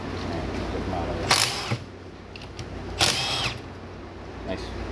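Stubby impact wrench removing brake caliper bolts on a Hyundai Sonata, two short loud rattling bursts about two seconds apart over a low background hum.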